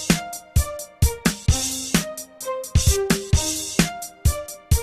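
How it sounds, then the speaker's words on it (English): Synth string arpeggio from a music track built with Slicex, playing plucky repeated notes in a steady rhythm, loud and clear with no voices. "I have this here string part, and it sounds like this."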